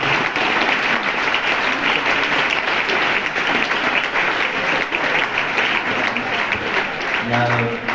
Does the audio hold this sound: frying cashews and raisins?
no